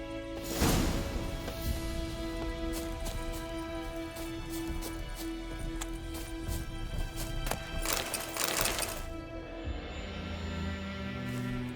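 Horse hooves clip-clop in The Witcher 3, a steady run of rhythmic strikes over a sustained ambient drone, with louder bursts near the start and again toward the end.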